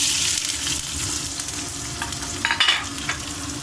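Onions sizzle and crackle steadily in a hot pan of oil with popping mustard seeds and cumin, a continuous close frying hiss with a brief louder burst of spattering midway; no talking.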